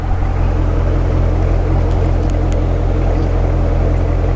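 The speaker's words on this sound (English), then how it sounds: "let's rev it up. Get a little engine rev," A new Chevrolet Corvette Stingray that came through Hurricane Irma idles and revs up close, giving a steady, loud low engine drone with no talk over it.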